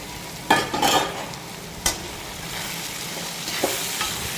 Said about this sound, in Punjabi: ਸਾਰੇ ਮਸਾਲੇ ਪਾਉਣ ਤੋਂ ਬਾਅਦ ਆਪਾਂ ਸਾਰੇ ਮਸਾਲਿਆਂ ਨੂੰ ਇੱਕ ਵਾਰ ਸੇਕ ਲਵਾ ਲਵਾਂਗੇ